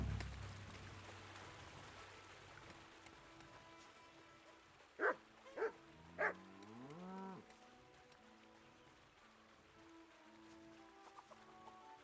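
A dog in the medieval role-playing game Kingdom Come: Deliverance gives three short, sharp barks in quick succession over quiet ambient game sound, followed by a brief whining tone.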